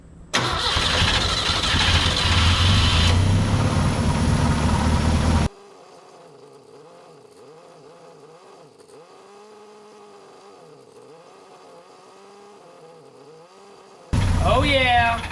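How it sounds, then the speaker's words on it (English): A 1965 Datsun 320 pickup truck engine runs loud and rough, cuts to a long quieter stretch of voices talking, then the engine roars back at the end. "Okay, well, it damn near idled. Let me see if I can keep it running."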